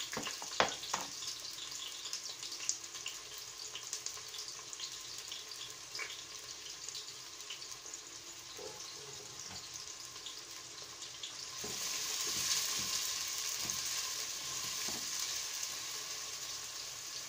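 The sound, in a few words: onions frying in a pan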